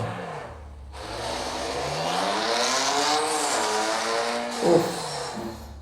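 Car engine in a video game revving hard and accelerating, a loud continuous driving roar with rising and falling pitch and a brief louder burst near the end, with no talking.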